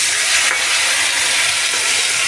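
Black cumin paste and bori frying in a pan and being stirred, giving a loud, steady close-up sizzle with a faint scrape of the spoon and no talk.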